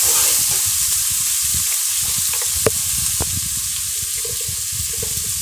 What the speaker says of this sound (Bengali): এর মধ্যে আমি নিয়েছি পটল বেগুন এবং ছোট বই বই কচু এগুলো আমি সুন্দর করে একটু ভেজে নেব